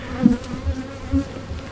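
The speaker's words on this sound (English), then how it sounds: "All these other little bees are the female workers." Honey bees buzz around a hive frame at a commercial honey farm. Several close, low droning hums rise and fall over less than two seconds, with no talk.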